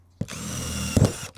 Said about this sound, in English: this time I'm drilling the holes in.